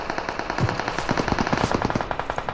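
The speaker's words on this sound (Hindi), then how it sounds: "तुम्हारा भाई देगा उस पर फायर" Rapid automatic gunfire in the battle royale video game BGMI: a fast, steady stream of close, loud shots with no talk.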